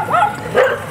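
Dogs bark at an HBX Dune Thunder 12891 RC truck driving through thick backyard grass, giving two quick, loud, close yelping barks in a row.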